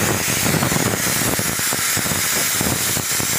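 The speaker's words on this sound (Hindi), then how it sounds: "मैंने मूंग दाल को ले लिया है, अभी इसे अच्छी तरह से रोस्ट कर लेंगे, कढ़ाई में फ्राई कर लेंगे" Moong dal roasting and frying in a kadhai, a continuous close hissing sizzle with soft scattered crackles throughout.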